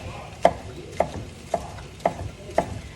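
A knife chops peppers on a cutting board for a Jamaican ackee and saltfish dish, giving five sharp, evenly spaced thuds about half a second apart over quiet kitchen background.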